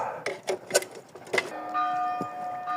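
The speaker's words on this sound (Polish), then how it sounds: "Dzwony dzwonią." Church bells ringing outdoors near a scrap-metal clearing job, a few clanging metal strikes followed by a sustained ringing tone that hangs in the air, moderately loud.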